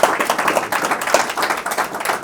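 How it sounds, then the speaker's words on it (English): An audience applauds a panel at a talk on DNA and paper trails, a dense, even round of clapping that holds steady throughout. "A round of applause for your panel,"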